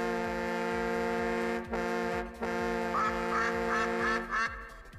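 Duck-quack goal horn from the NHL 20 hockey video game: a sustained, harmonically rich horn-like blare with repeated quacking bursts layered in, loud and continuous, briefly dipping twice before swelling again.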